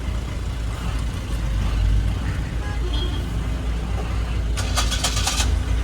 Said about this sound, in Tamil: ஒரு வண்டி ஆட்டாக்கிற சவுண்டு கேட்டிங்களா? வண்டியே இல்லை டிராக்டரான்னு தெரியல, அந்தளவுக்கு சவுண்டு.